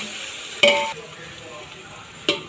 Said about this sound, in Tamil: இப்போ நம்ம இதை உப்பு போட்டு வதக்கும் போது நம்மளுக்கு வாசனை நல்லாயிருக்கும், சீக்கிரம் வதங்கும்